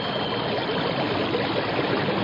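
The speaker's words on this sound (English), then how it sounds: "It sounds like a giant waterfall. There are no falls around here. It's a whirlpool." Radio-drama sound effect of a whirlpool's rushing water, a dense, continuous, fairly loud churning roar with no breaks or voices.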